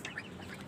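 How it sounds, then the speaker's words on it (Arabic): Duck sounds from six-week-old ducklings kept on a rooftop, heard as a few soft, close quacks over a steady murmur, with no talk. "البط اللي هيندبح ده عمره شهر ونص"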